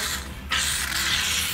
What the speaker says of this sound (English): So first, you're going to spray about 8x10.